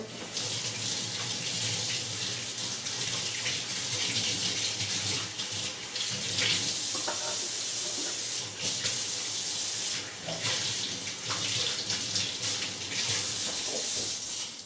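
Tap water runs steadily into a kitchen sink as hands are washed under the stream, a continuous close hiss with splashing shifts and brief changes where the hands move through the flow.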